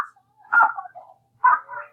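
A person imitates a dog with two short, whiny yelping bursts about a second apart. The sounds are close and clear against a quiet background.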